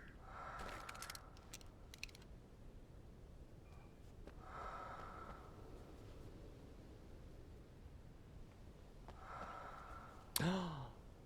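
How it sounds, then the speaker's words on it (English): In the Alan Wake video game, a hidden message being illuminated gives off faint, breathy whooshes that rise and fade in three separate swells over quiet hiss, then a brief sharp sound near the end. "It's the sound of us illuminating the hidden message."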